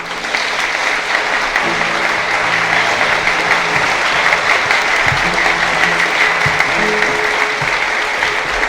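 A live audience at a 1970 gospel concert in Washington DC applauds loudly and steadily, a dense, continuous wash of clapping throughout.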